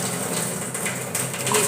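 Water used to rinse out a bowl of ground ginger and spices is poured into a pot of dhaba-style dal, a continuous close splashing gush lasting a moment.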